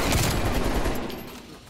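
AK-47 fire in an online multiplayer shooter game comes as a rapid burst of close, loud automatic shots that thins out toward the end, with no clear talk over it.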